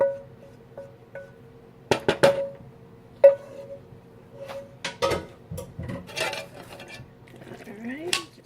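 Spaghetti stirred into beef and chorizo meat sauce in a small pan, with soft utensil scrapes and metallic clinks against the pan in irregular bursts, close and moderately loud, with no talk.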